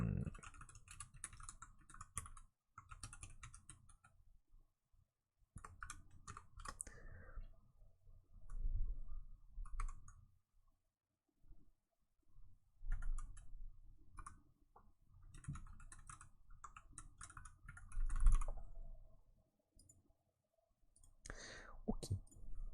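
Fingers type on a computer keyboard during game development work, with close, quiet clusters of clicking keystrokes broken by short pauses throughout.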